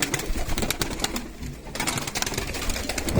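A loft full of pigeons fills the air with dense, constant cooing and calling, with scattered wing flutters and scuffles close at hand.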